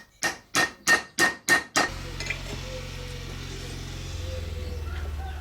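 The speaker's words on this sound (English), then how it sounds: "give it a few hammer whacks" Five loud, evenly spaced hammer blows ring out on a steel bar cut with an angle grinder, each a sharp metallic strike, followed by a low steady hum and faint clatter.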